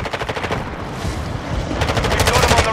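Rapid automatic gunfire in the Call of Duty: Modern Warfare 2 video game, a Team Deathmatch round, with sustained bursts that grow denser and louder toward the end and no talk.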